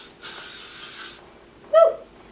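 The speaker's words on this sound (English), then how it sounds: "add a little bit more hairspray" Hairspray sprays onto long, curled hair in one steady hiss lasting about a second, close and clear. A brief vocal sound follows shortly afterward.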